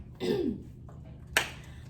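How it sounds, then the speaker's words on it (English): A single raspy cough, followed a moment later by a sharp clearing burst, close and fairly quiet. "Coronavirus and I'm coughing."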